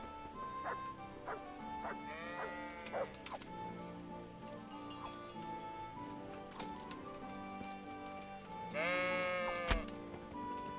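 Sheep in the medieval video game Kingdom Come: Deliverance bleat repeatedly at close and middle distance, with a louder burst of bleating near the end over soft game ambience.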